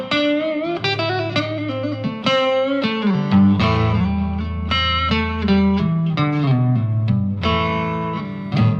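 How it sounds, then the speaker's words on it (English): A Volgoa VTL 2 electric guitar, pickup split to single coil in the neck position, plays a run of ringing notes and chords, bright and sustained, alone with no talking. "Now I'm going to split the pickup to a single coil in the neck position."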